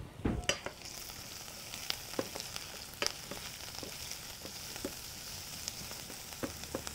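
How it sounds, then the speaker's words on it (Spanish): Chile relleno de chicharrón ingredients being mixed over a very hot pan, with sharp, scattered taps and clicks of a utensil above a faint continuous sizzle, fairly quiet and without talk. "Vamos a mezclarlo muy bonito."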